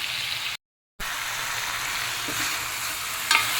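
Tomatoes and onions sautéing in a pan for a chutney, a loud, even hiss of frying close up, cut by one brief silent gap and ending on a single clink of the utensil, with no talk.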